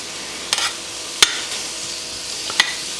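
Onions fry in a pan with a continuous sizzle as they are quickly swirled around, and a few sharp clacks of utensil on pan punctuate the hiss; no voices are heard.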